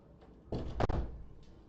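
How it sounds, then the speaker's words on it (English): A door is shut once in a room at home, giving a single close thud with a short rattle, preceded by faint shuffling and followed by a quiet tail of room noise. "I forgot to shut the door"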